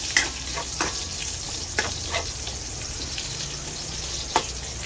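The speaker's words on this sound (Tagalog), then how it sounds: "Sarap talaga pa nagigisa ng bawang at sibuyas." Garlic and onion sauté in a hot pan, giving a steady loud sizzle with a few sharp clicks and scrapes of stirring scattered through, no voices over it.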